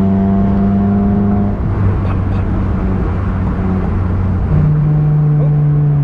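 A Mazda Miata NC pulls in fifth gear at about 65 mph with the throttle floored, its engine a steady, loud drone and road roar that holds evenly without a downshift.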